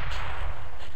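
Gunshot fired through a wall in Counter-Strike: Global Offensive, a single loud, dense burst of gunfire with a heavy low boom that sustains through the short moment, close and alone without talk.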